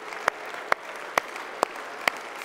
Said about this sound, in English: Let's give God a clap offering for his goodness.